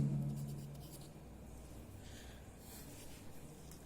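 A pen writing answers in a workbook, soft continuous scratching strokes close up, with a brief low hum at the start.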